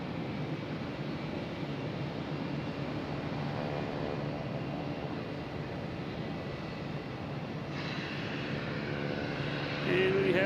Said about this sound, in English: And we have JetBlue taking off, heading to San Juan in A320, flight 6161.